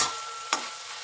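A spatula scrapes once through coconut and jaggery filling for puli pitha in a pan, set against a soft, steady sizzle.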